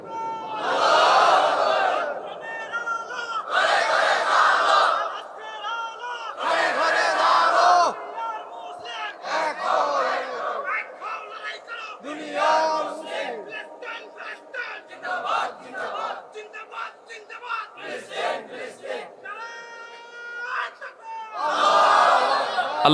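A large crowd at a Bengali Islamic waz sermon gathering shouts slogans in loud, surging bursts separated by short pauses, with the chant repeating in a steady call-and-response rhythm.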